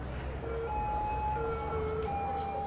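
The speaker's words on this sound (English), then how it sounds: "And an ambulance." An ambulance siren in the Cities: Skylines video game wails with rising and falling tones, fairly faint and distant over a low city hum.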